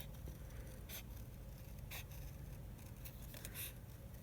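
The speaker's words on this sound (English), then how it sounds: "I'm just going to cut on my lines, just inside my lines," Scissors snip paper along traced lines for a journal book tie, several short, crisp cuts spaced about a second apart, close and fairly quiet over a low background hum.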